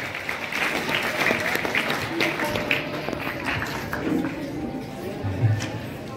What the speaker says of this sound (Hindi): जोरदार तालियों से मनोज शास्त्री जी का स्वागत किया जाए।